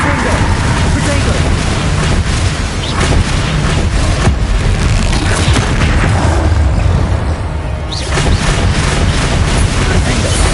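Blasting-spell explosions from Hogwarts Legacy boom repeatedly over a dense, continuous wash of battle noise, loud and close, with spoken spell incantations layered throughout.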